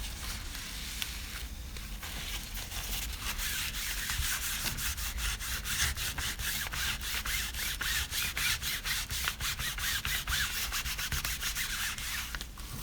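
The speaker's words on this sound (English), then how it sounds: "I'm going to rub off this excess paint." Steady, close rubbing and scrubbing as excess paint is wiped off a die-cut paper background, continuous for over ten seconds with rapid repeated strokes toward the end and no talking.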